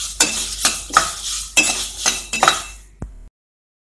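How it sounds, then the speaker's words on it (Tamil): Mustard seeds, fenugreek and dried red chillies dry roast in a hot pan, stirred in rhythmic rattling, scraping sweeps with light clinks of a utensil, close up, before the sound cuts to silence near the end. "இப்போ வந்து நான் இந்த கடுகு, இந்த வெந்தயம், இதெல்லாத்தையும் நல்லா ட்ரை ரோஸ்ட் பண்ணி எடுத்துக்கலாம்."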